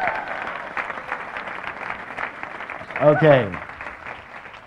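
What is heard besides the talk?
audience applause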